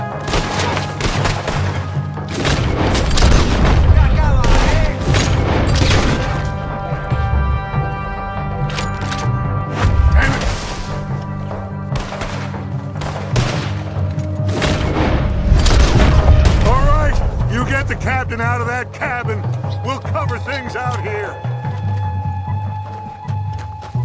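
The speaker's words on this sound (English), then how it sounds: "There's another set of cannons up ahead!" Repeated booming cannon blasts and explosions in the Red Dead Redemption 2 video game, loud and heavy, recurring throughout with rumbling low end and scattered gunfire-like cracks, mechanical creaks and music-like tones beneath.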